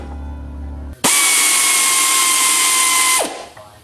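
A power tool bolts a brake caliper back on, giving one loud, steady high-pitched whir of about two seconds that starts abruptly and winds down at the end, close up.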